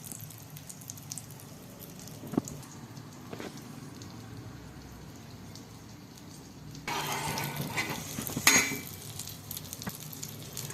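Fish frying in a pan gives a low steady sizzle through the whole stretch, with a few light knocks and a louder, brighter surge of sizzling near the end.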